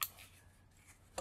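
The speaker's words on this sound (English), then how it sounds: "I will clip off this piece of copper right here." Snips cutting a piece of copper off brass scrap, a quick crisp metallic clip followed by a second snap, close and quiet.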